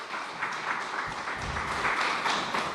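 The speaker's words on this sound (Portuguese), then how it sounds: "Você pode aplaudir ao Senhor por isso?" A church congregation applauds during a Portuguese-language evangelical sermon by a pastor, a fairly soft, continuous patter of many hands in a reverberant hall, swelling slightly in the middle and holding steady without speech over it.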